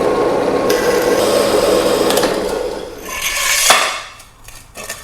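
A large pipe being sawn to length with a straight cut, a steady rasping, clattering scrape of the saw stroke that swells and fades, ending with a sharp knock as the cut finishes.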